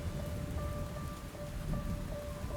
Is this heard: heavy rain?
yes